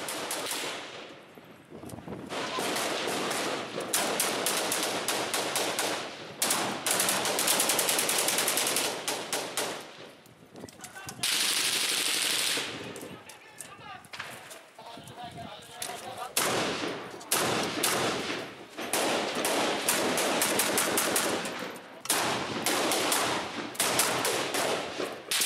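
Bursts of automatic weapon gunfire on a battlefield, loud rapid volleys coming in repeated bursts with brief gaps, some shots near and others farther off, with faint voices between them.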